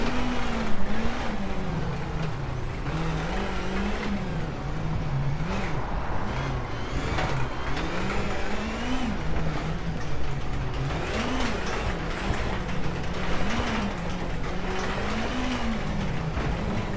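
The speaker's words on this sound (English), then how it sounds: "here I'm in 6th gear, I don't have another gear to shift up to, so I have to hit the rev limiter" A Ford Fiesta WRC rally car in the WRC 8 racing game, held in 6th gear and bouncing off the rev limiter, giving a loud, steady engine drone with a rhythmic wavering pulse throughout, with no talk.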